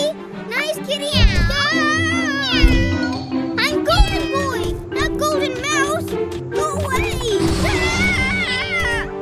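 A cartoon cat meows repeatedly in long, wavering cries over busy background music, loud and close, with high squeals layered in.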